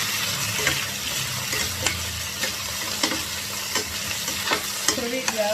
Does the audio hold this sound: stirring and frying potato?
yes